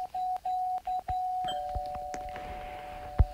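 A doorbell ringing in the video game Brokehaven, heard as a repeated electronic buzzing tone in short pulses that then holds steady, with a few soft thumps near the end.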